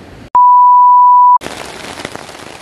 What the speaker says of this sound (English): the rain got super, super intense